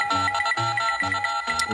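A telephone rings with an electronic ringtone, short repeating trilling pulses at a steady quick rhythm, close and clear, with no talking.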